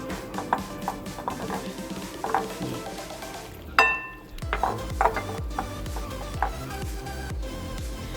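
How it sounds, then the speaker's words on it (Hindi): Bread kabab mixture being mixed with semolina by hand in a home kitchen, giving soft, close squelching and rubbing sounds with occasional light clinks of a bowl, a brief louder knock partway through, and no talking. "इसको मैं हाथ से मिक्स करती हूँ"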